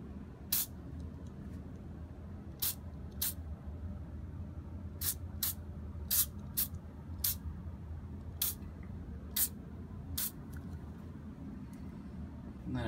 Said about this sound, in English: every so many layers, we'll take some spray silicone